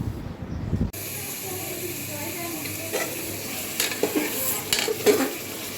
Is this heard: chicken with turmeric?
yes